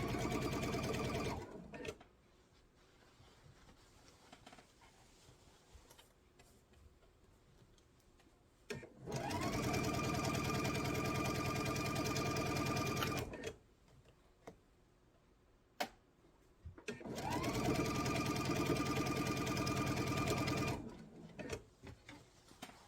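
Sewing machine stitching fabric for a table runner, running in three long steady bursts separated by quiet pauses filled with soft handling sounds.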